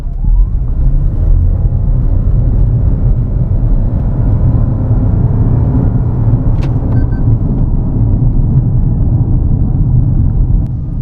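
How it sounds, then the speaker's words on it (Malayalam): A Toyota Urban Cruiser Hyryder V hybrid SUV accelerating from a standstill at full throttle, its engine droning loudly and steadily throughout with a low road rumble, heard from inside the cabin and without talk. "ഞാൻ ഈ പോയിന്റിൽ ഫ്ലോർ ചെയ്യുന്നു"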